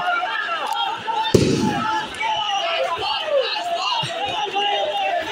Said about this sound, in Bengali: গুলিও ফুটাচ্ছেন।